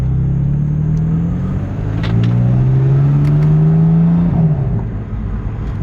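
BMW car engine heard from inside while driving, a steady rising drone as it accelerates through gears with a shift near the end and faint burbles, fairly loud and continuous.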